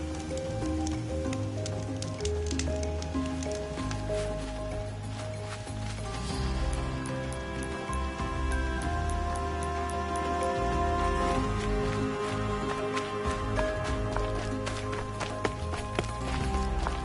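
Rain falling in Horizon Zero Dawn, a steady patter on surfaces mixed with in-game footsteps and ambient tones, continuous and moderately loud throughout.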